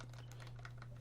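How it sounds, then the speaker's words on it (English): Clicky keypad buttons of a 1976 Rockwell 24K II pocket calculator, made in Japan, pressed in a quick run of faint taps over a steady low hum. "It's quite nice clicky buttons on there."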